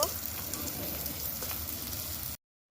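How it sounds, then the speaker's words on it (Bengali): Chopped green and ripe chillies fry in oil with a soft, steady crackling sizzle that cuts off abruptly near the end. "আর এখানে কাঁচা পাকা লঙ্কাটা কুচিয়ে রাখা দিয়ে দিলাম একটু ভেজে নেব"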